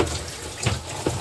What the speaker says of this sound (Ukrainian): І тепер включаємо душ.